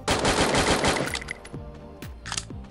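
Rapid automatic gunfire in the mobile battle game Free Fire, a dense burst of shots followed by scattered single cracks and distant reports.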